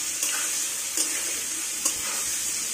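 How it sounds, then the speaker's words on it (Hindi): Cauliflower being fried golden in a pan with salt for aloo gobi, giving a steady close sizzle with a couple of brief clinks of stirring, and no talk. "तो नमक डालकर हमने अच्छे से भून लिया है सब्जी को।"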